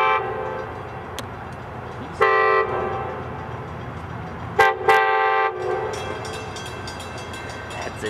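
Amtrak Capitol Corridor train in Oakland, California, sounding its horn in several distinct blasts over a steady rumble of the passing train, with two short toots near the end.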